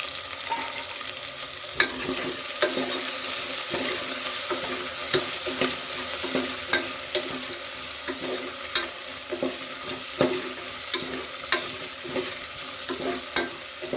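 Steady sizzling of spices and turmeric powder frying in hot oil for tempering, with occasional sharp crackles and pops throughout; no voices.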